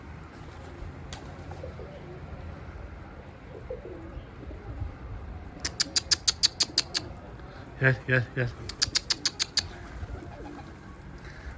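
Pigeons coo softly against quiet outdoor background noise, then two bursts of sharp, rapid wing-flapping claps ring out close by, while a man calls to the birds.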